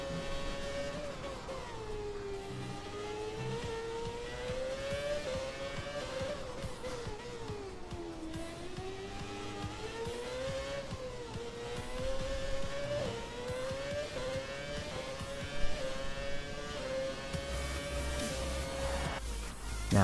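Classic Formula 1 cars from the F1 2017 video game lap the Monaco street circuit, a high engine whine rising and falling with each gear change and corner, steady and prominent throughout.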